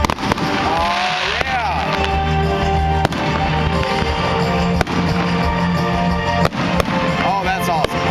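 Fireworks at a 2009 Busch Gardens display crackle and boom continuously, with sharp loud bangs punctuating dense fizzing and popping, while spectators talk and exclaim nearby.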